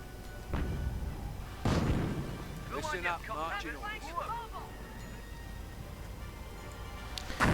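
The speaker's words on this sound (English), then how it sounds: "allowing mortar half-tracks to bombard these positions in the hopes of clearing them out this way" Mortar half-tracks shelling positions in a World War II strategy game, several heavy booming impacts spaced apart, with voices talking over the battle noise.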